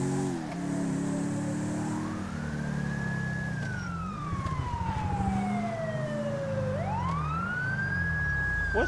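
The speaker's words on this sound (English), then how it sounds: "I do hear a siren." A police siren wails in Grand Theft Auto 5 with the LSPDFR police mod, sweeping slowly up and down in pitch over a steady vehicle engine rumble, fairly close and continuous with no talk.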